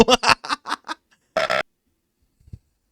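A long, loud burp stands out after several bursts of laughter-like vocal sounds, followed by a faint short noise near the end, recorded close up during a casual metal podcast.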